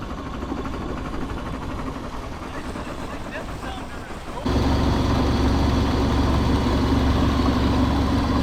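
A boat's engine runs steadily as it motors off a sandbar on the Intracoastal Waterway, a dull idling rumble that jumps to a louder, constant drone halfway through, with no voices.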